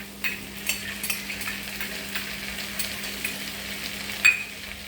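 Ginger garlic paste fries in a pan with a steady sizzling hiss under repeated scraping and stirring strokes, close and moderately loud, with a steady low hum beneath and one sharper clink near the end.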